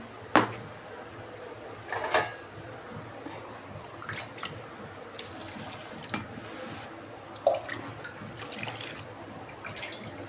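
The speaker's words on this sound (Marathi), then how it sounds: "तोपर्यंत आपण तांदूळ धुवून घेऊ" Rice grains being washed by hand in water in a home kitchen, with splashy swishes, drips and wet squishing in scattered bursts, close and moderately quiet.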